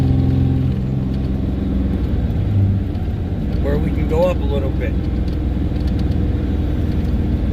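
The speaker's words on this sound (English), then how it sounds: "You listen to the truck, and that's what you run by. So now you can hear" A Dodge Ram 5500 Cummins diesel truck hauling 46,000 lbs on a mountain grade gives a steady, deep engine drone from inside the cab, with someone speaking briefly over it.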